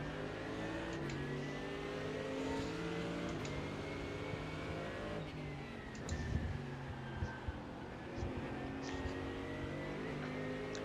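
Several race cars in a racing video game, engines droning and revving together with pitch sweeps as cars pass close by, a few light knocks and bumps near the end, continuous and loud.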